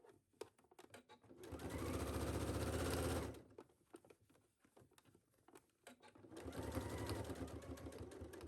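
A home sewing machine runs two bursts of steady, rapid stitching as it understitches the facing on a belt for a McCall's M8479 garment. Between the runs come brief clicks and handling sounds, close and fairly loud.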